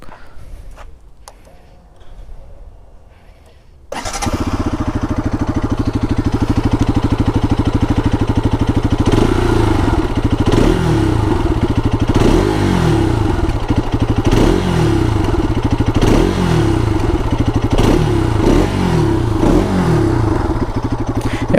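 A Bajaj RS 200 BS6 motorcycle fires up after a few quiet seconds, then its engine and exhaust hold a loud, close, steady drone with repeated throttle blips rising and falling.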